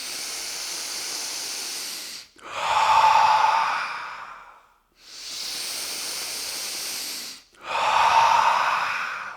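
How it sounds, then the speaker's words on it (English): Two huge, deep breaths in a breathing exercise, each a long steady inhale followed by a louder, airy exhale, close and alone with brief silences between. "Three more huge breaths."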